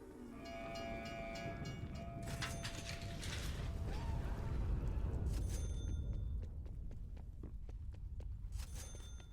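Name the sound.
train in video game Call of Duty Mauer Der Toten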